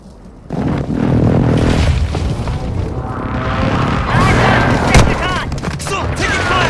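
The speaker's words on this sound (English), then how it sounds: "Target strike inbound." Target strike explosions in Call of Duty Warzone on Ashika Island Resurgence: loud, continuous booming barrage with rolling blasts and crackling debris, a sharp impact near the five-second mark, sustained throughout.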